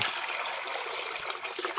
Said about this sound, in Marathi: आता इकडे आम्ही कपडे धुवसाठी पाणी भरत आहोत